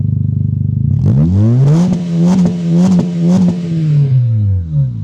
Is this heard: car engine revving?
yes